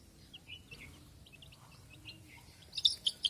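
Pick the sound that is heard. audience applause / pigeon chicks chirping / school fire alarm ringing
pigeon chicks chirping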